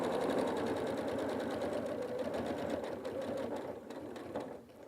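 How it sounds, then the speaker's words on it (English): A sewing machine runs steadily, stitching about an eighth of an inch from the edge of a fabric pocket on a pair of pants, a continuous close whir that slows slightly near the end. "I'm just sewing about 1/8 of an inch from the edge of the pocket."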